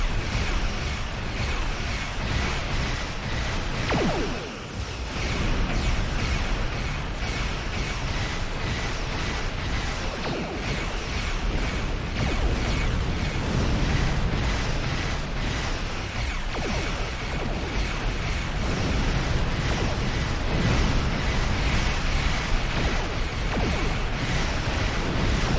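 Torpedo explosions from the space combat game Star Trek Online roll on as a dense, continuous roar of booms and rumbling impacts that barely pause throughout, with no speech.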